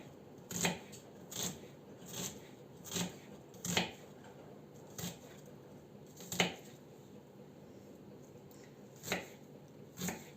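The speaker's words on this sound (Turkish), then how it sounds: "soğanlarımızı böyle küçük küçük doğruyorum" Onions being finely diced with a knife on a board for a Turkish dry bean stew, about ten crisp, separate chops at an uneven pace, fairly close but soft, with no voices.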